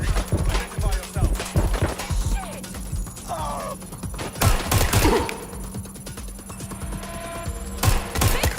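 Chaotic gunfire in Watch Dogs: Legion, with rapid shots and sharp bursts mixed with crashes and clatter, with voices shouting throughout.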